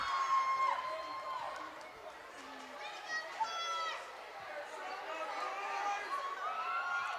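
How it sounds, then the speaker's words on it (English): A rabid crowd at a high school hockey game keeps up a loud, continuous roar of cheering and shouting, with whistles and sharp calls standing out over the noise. "This crowd is rabid here."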